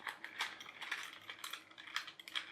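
A key winds a clockwork toy train, giving rapid, light ratcheting clicks with mechanical ticking from the spring and gears, close and fairly quiet, with no voices.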